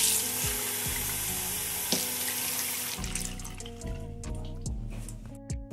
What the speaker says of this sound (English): I'm gonna fill them with water.